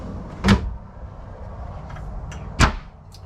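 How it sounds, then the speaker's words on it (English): Full extension drawer glides in a 2025 Airstream Flying Cloud 30FBBQ travel trailer make two brief, sharp sliding thuds about two seconds apart against quiet background hiss, with no talk. "you have 4 more drawers here, and you can see they're full extension drawer glides."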